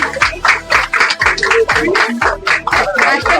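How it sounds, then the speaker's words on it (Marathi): Audience applause at a women's day award ceremony, a steady run of close hand claps with a sharp, regular rhythm, loud and continuous through the whole stretch. "परत एकदा जोरदार टाळ्या वाजवायच्या आहे"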